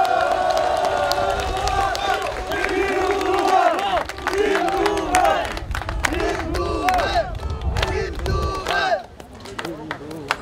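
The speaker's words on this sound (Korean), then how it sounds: "우리 시민 여러분들 동의하시면 박수 한번 쳐주십시오" A crowd at an outdoor election campaign rally in Yangsan, South Korea, held on a final weekend in bad weather, claps and cheers loudly, with scattered shouts and cries over a dense burst of applause.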